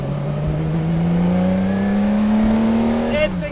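Inside the cockpit of the 1965 Le Mans-winning Ferrari 250 LM race car, the engine drones loud and close, pitch climbing steadily under acceleration before dropping at a gear change.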